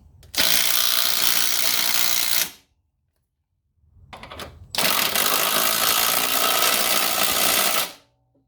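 A ratchet tightens engine mount bolts on a Toyonda swap in two long bursts of rapid, dense clicking, close and loud, separated by a short pause with some softer handling noise.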